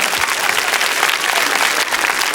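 A TV studio audience at a 1981 children's singing show applauds a young contestant, a steady, loud wash of many hands clapping without pause.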